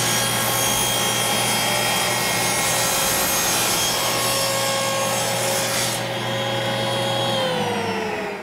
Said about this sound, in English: You'll make your first cut over here and then flip it against the stop block on that side to finish the cut.